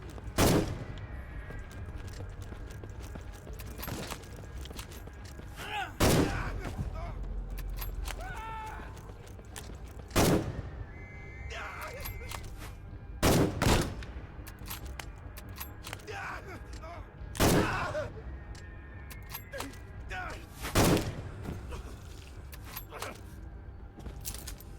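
Gunshots in the World War I trench game Conscript, sharp single cracks spaced several seconds apart over a low ambient rumble, with mechanical clicks between shots.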